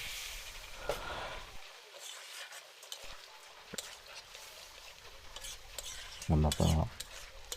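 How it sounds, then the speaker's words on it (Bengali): Cauliflower and pumpkin curry being stirred in a pan with a little mustard oil, a soft steady sizzle with a few scraping stirs and a louder clatter of utensil near the end. "সরষের তেল সামান্য দিয়ে নাড়াচাড়া করে দিয়ে দেবো জল"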